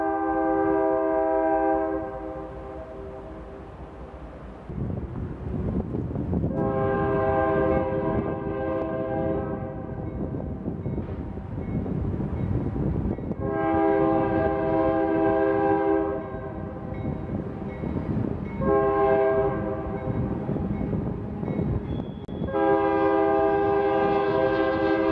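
A loud train horn blares in long harmonic blasts, repeated several times with pauses, echoing off the walls of the Feather River Canyon at Keddie Wye over a low rumbling rail background.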